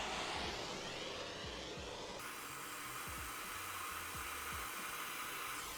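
A heat gun blows a steady, close hiss of hot air onto BMW wheel studs locked with Loctite, its rushing tone shifting partway through, with faint low knocks underneath and no talking.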